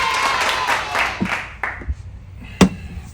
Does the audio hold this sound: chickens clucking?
no